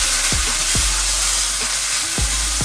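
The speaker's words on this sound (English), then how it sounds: "Let's give it a stir." Steak meat sizzling loudly in a hot pan as it is stirred, a constant frying hiss broken by four distinct scraping strokes of the utensil, with no voices.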